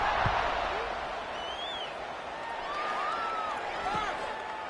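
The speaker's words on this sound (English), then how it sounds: "this crowd is buzzing after that last score." Stadium crowd at a college football game between South Alabama and Southern Miss, a broad steady roar and buzz of many voices with scattered whistles and calls, loud and continuous across the whole moment after a score.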